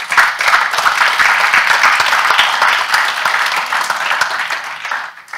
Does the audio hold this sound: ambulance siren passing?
no